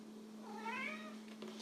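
A house cat gives a single drawn-out meow, rising and then falling, fairly faint against a steady low electrical hum in a quiet indoor room.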